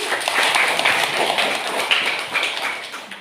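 A crowd at a village development planning meeting applauds a council member, a brief burst of dense clapping at moderate distance.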